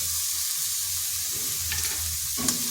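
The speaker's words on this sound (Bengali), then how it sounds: "এর বেসনটা ভালোভাবে এটার সাথে মিশিয়ে নিচ্ছি" Gram flour is stirred into cauliflower stems in a pan on low heat, making a steady close sizzle with soft scraping stir movements and a sharper clink near the end.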